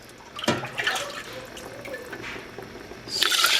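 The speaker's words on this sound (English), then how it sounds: "I got about 10 cups of broth in there total" Turkey bone broth is poured into a pot, with splashing liquid and drips, a brighter pouring burst at the start and another at the end.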